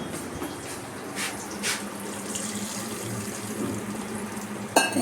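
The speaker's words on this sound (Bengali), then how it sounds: "এটার মধ্যে আমি এখন জলটা ঢেলে দিচ্ছি।" Lukewarm water poured into a cooking pot while a raw mango and rahu fish curry is being made gives a continuous splashing, running-water rush, with a small clink near the end.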